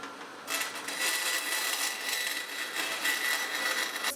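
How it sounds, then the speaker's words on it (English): A bandsaw cuts slowly through an acrylic sheet, giving a steady, close hiss and whir that starts suddenly and holds evenly to the end, with no voices. "I'm going over to the bandsaw and we're going to cut it there."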